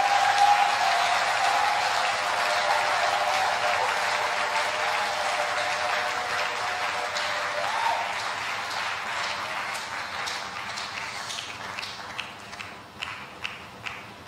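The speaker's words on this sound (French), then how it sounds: "donnez un peu une bonne acclamation pour ce Seigneur" A church congregation applauds and cheers in a dense, sustained wash of clapping that gradually thins out into scattered, separate claps toward the end.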